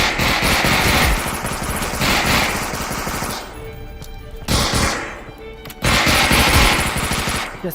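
Submachine gun bursts in the shooter game Gunman Contracts, rapid loud close rattling volleys broken by short quiet gaps, then more sustained firing.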